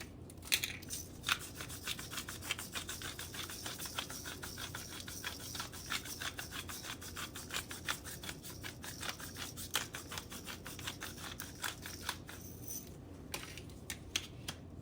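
Rainbow peppercorns crunch and rasp in a hand grinder with a steady, close gritty scraping that continues almost without a break, with no talking.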